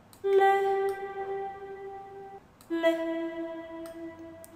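Sampled virtual choir voices from an orchestral vocal library sing staccato syllables as sustained harmonic tones, a longer held note followed after a brief gap by a shorter one, soft and alone.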